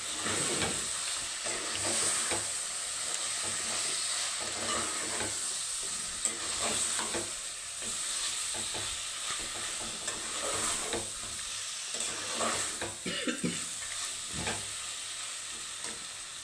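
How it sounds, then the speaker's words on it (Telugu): Ginger garlic paste sizzling in a hot pan while being stirred, a continuous close frying hiss with scattered scraping and clinking of the spoon throughout. "ఇప్పుడు కొంచెం అల్లం పేస్ట్ వేస్తున్నాను. అల్లం తెల్లగడ్డల పేస్ట్"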